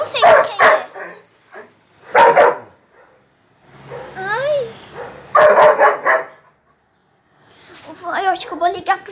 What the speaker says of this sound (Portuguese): É o cachorro da vizinha, quase atropelado!